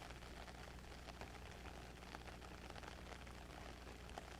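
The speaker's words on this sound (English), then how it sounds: "let's get out of the rain" Steady rain falls in a cemetery in Perry County, Indiana, a constant, even patter on surfaces with no voices or breaks.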